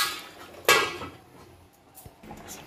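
A metal lid clanks down onto a pan of brinjal and hilsa fish in a home kitchen, one sharp clattering hit followed by a few faint taps.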